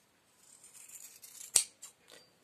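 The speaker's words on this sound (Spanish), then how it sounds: "Una vez cosido, corto el excedente" Fabric scissors snipping excess cloth from a sewn hem, a few soft close cuts with one crisp sharp snip in the middle, otherwise quiet.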